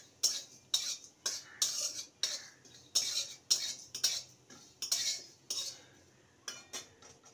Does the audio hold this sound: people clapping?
no